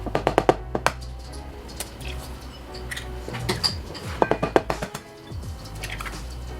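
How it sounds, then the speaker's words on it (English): An egg cracked against and dropped into a hot GraniteStone nonstick frying pan, with a few sharp taps and clicks followed by soft sizzling and small clatters in a quiet kitchen. "let's crack the egg on"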